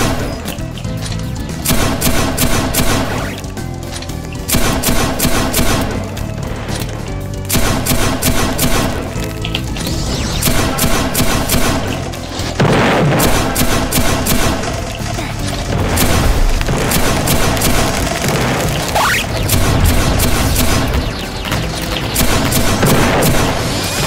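Gunfire in the video game Plants vs. Zombies Garden Warfare, with loud rapid volleys and booming blasts crowding one another for the whole stretch and only brief dips between bursts.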